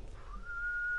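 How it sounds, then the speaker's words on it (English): A character in The Last of Us video game whistles a single clear tune that rises in pitch and then holds steady. It is heard alone and up close, with no talking. "I'm whistling."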